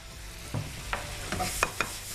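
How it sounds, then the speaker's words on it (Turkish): A spoon stirs baklava filling with cinnamon in a pan with a few soft scraping strokes over a faint sizzle, each stroke close and distinct. "Şöyle güzelce karıştırıyoruz."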